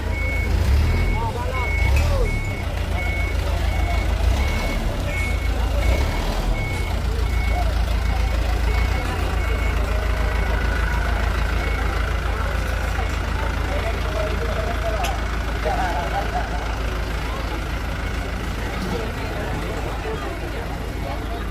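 A truck backs up with a steady repeating reverse alarm beep over its low idling engine, outdoors at a funeral gathering in Makale, Tana Toraja, with crowd chatter and voices throughout.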